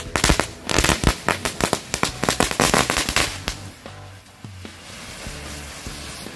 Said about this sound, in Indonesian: Ini dia merconnya. Udah kita susun, siap kita nyalakan.